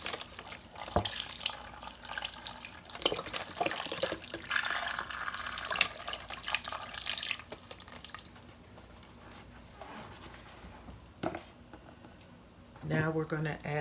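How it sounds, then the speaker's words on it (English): Water pours from a tap into a pot of pig's feet with seasoning and stock, a steady splashing rush for about seven seconds that then thins out, with a voice speaking over it. "We want to cover this, so we're going to add water."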